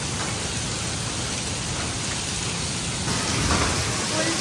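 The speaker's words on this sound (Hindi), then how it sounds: "अभी बारिश हो रही थी तो बारिश होते होते उसमें बर्फ के जो ओले हैं वो भी पड़ने लग गए हैं यहाँ पे" Heavy rain mixed with tiny hailstones pours down on a street during a sudden storm, a dense, steady hiss close by that swells slightly louder toward the end.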